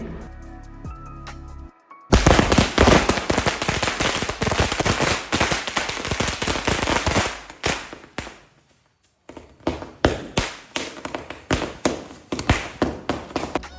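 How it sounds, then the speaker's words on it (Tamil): A long string of 1000 firecrackers bursts for Diwali, a loud, dense, rapid crackle of explosions that runs for several seconds, pauses, then resumes in scattered sharp pops. "அதான் நானும் ஒரு 1000 வாலாவை எடுத்துகிட்டு போயிட்டு இருக்கேன்."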